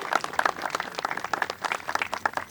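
A congregation claps at a wedding ceremony in a church, a moderate scattered round of applause heard from a short distance.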